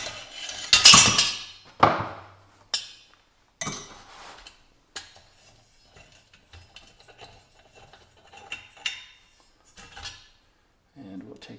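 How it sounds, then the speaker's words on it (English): Metal parts of a 1950 Coleman 220D lantern clink and clatter as a nut is taken off, sharp scattered knocks and taps, louder early then softer and sparse, with brief talk. "take this nut off there"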